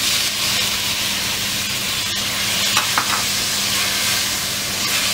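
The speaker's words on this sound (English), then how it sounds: "Now add tomatoes." Tomatoes tipped into a hot pan over ginger garlic paste for pav bhaji, giving a steady, loud sizzle and hiss with a brief stir scrape near the middle, heard alone without talk.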